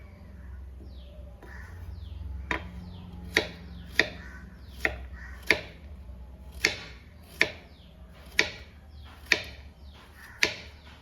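Knife chopping pumpkin pieces on a board for a Kerala-style pumpkin curry, about a dozen sharp, evenly spaced chops coming close and clear over faint background bird calls.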